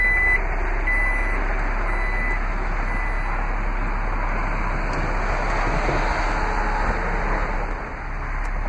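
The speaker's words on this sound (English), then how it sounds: "To close the automatic lift gate or the power folding lift gate," The power liftgate of a 2015 Jeep Grand Cherokee Limited 4x4 closes with a run of faint, evenly spaced warning beeps early on. A steady low hum and broad background noise carry throughout, with no speech.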